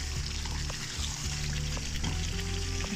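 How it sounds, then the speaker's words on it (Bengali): Chicken cooked down with tomatoes sizzles with spices as it is stir-fried in a karahi for korai chicken; a steady, close frying hiss with occasional soft stirring clicks. "মশলা দিয়ে আমি চিকেনটা ভালো করে কষিয়ে নেব।"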